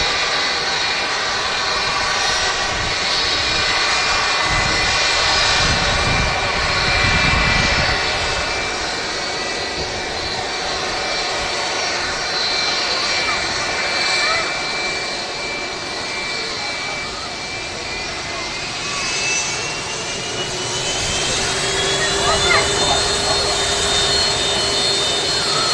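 A rare Singapore Airlines A380 in special livery arriving, its jet engines giving a loud sustained whine and roar with shifting tonal pitch, heard close and continuous, with faint voices now and then.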